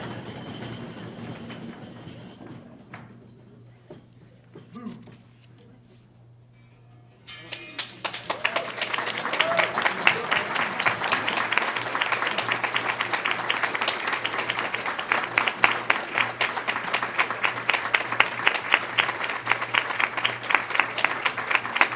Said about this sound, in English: I think you got the most applause of the evening, Tyler